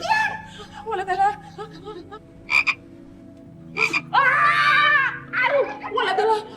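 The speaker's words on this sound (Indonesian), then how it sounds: "Ini pasti kodok yang disebut-sebut bapaknya tadi tuh" A frog croaks loudly and close in several bursts, mixed with excited human voices and chuckling-like sounds.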